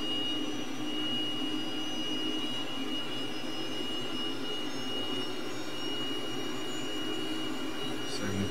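Twin jet engines of a T-37 aircraft roar steadily at high power on the runway centerline before takeoff, a loud continuous whine with a sharp high tone layered over the rumble.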